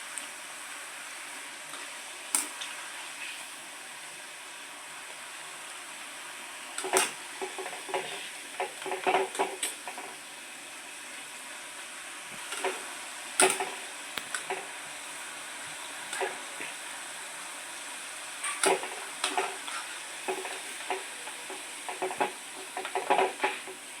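Onions fry in hot oil until golden while making onion pakoda, a soft continuous sizzle punctuated by repeated sharp clinks and scrapes of a utensil against the pan, close and moderately quiet, without talk.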